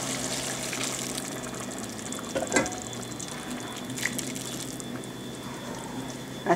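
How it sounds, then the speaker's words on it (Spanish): Water poured into a pot of esquites with chicken feet, a soft steady trickle and splash at moderate distance with a few small clinks. "Y ahora le voy a agregar el agua que puse a hervir."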